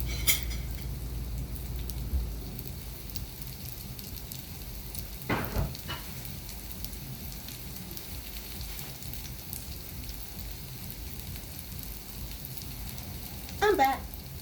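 Butter heats in a pan on the stove and gives off a faint, steady sizzle and crackle, with a few louder clatters standing out along the way.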